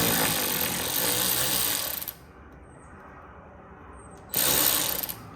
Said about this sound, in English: all the bumper screws are coming out after doing the wheel arches